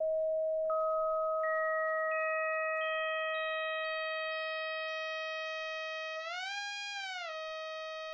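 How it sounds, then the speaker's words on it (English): Pure sine tone held steady while harmonic partials stack above it one by one at even intervals, forming a bright, rich tone that later wavers in pitch together before settling; clean and alone, with no other sounds. "I'm going to add a harmonic spectrum above that sine wave"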